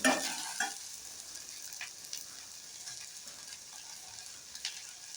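Okra sizzling in a pan over a medium flame while being stirred, with a soft steady fry hiss and occasional scraping clicks of the spoon, loudest at the start.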